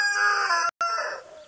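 Little John, a rooster in a backyard coop, gives one loud, close crow that drawls out and fades over a second and a half, with a brief break partway through.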